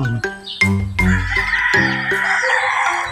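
Hens and roosters on a free-range chicken farm cluck and crow, with several overlapping calls in quick succession and one loud crow stretching across the middle, close and lively with no talking.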